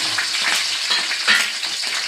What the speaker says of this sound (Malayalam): ചട്ടി അടുപ്പത്ത് വെച്ച് വെളിച്ചെണ്ണ അതിലേക്ക് ഒഴിച്ചിട്ടുണ്ട്. അതിലേക്കൊരു 5-8 പച്ചമുളക് നമ്മൾ കീറിയിടാണ്.